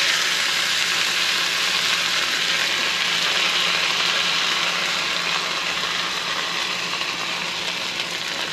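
Birria tacos frying in a hot pan, a loud, steady, bright sizzle that holds evenly throughout with no talking over it.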